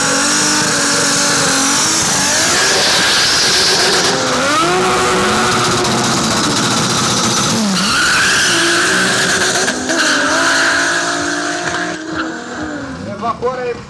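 Loud race car engines revving and accelerating with tires skidding at a 2013 motor race in Arad, Romania, pitch sweeping up and down repeatedly, a voice shouting in Romanian over the roar.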